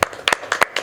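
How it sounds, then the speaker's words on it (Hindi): Several sharp, separate hand claps from an audience at a press meet for a web series, a handful of close, loud bursts spaced unevenly rather than a sustained ovation. "तो सबसे पहले इनके लिए ज़ोरदार तालियां चाहूँगा"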